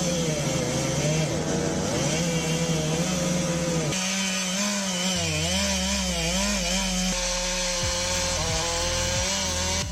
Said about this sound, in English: felling a giant tree in a residential area.